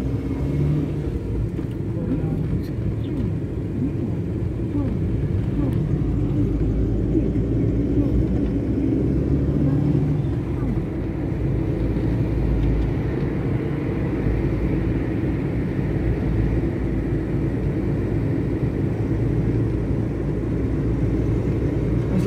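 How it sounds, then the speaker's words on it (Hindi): A car being driven on roads in DHA Y block, with a steady low engine drone and road rumble running continuously and fairly loud throughout. "हमजा वो मैं अभी गाड़ी चला रहा हूँ"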